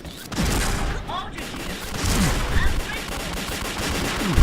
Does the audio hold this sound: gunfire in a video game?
yes